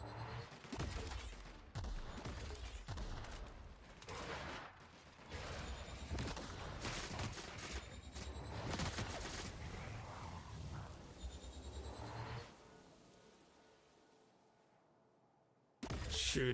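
Rapid bursts of gunfire aimed at a planet in the video game The Outer Worlds: Spacer's Choice Edition, loud volleys with mechanical clicks for about twelve seconds, then a quieter fading stretch before a final sharp burst.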